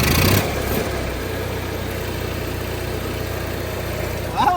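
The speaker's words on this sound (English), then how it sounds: "maybe this little generator thing will run." A small generator in a cheap, worn-out RV catches and settles into a steady, moderately loud running hum that drones evenly to the end.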